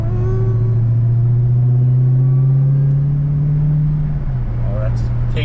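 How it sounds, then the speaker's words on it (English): A Dodge Charger Daytona Hellcat's supercharged engine drones loud and close, a steady deep hum with a rising supercharger whine as it pulls along, easing slightly near the end. "Yo, that supercharger is just insane."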